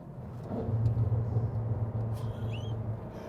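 A 2022 Cadillac CT5-V Blackwing engine while driving, a steady low, throaty rumble heard from inside the cabin that holds a sustained drone with slight swells and no voices.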